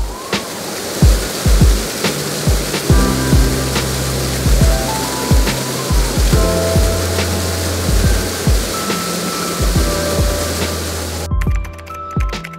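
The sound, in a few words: heavy rain in a forest during a jungle trek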